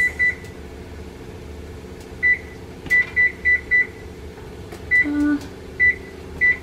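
Short electronic beeps from a kitchen oven timer being set, about a dozen quick tones in uneven clusters with one longer beep, close and clear over a faint hum.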